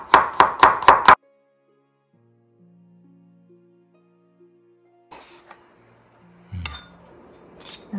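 Five quick, sharp knife chops mincing garlic on a cutting board open the clip, followed by near silence and a few clinks of utensils and dishes.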